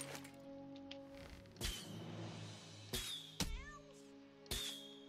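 A cat meows several times in South Park: The Stick of Truth, the cries loud, close and separated by short pauses over a quiet in-game background.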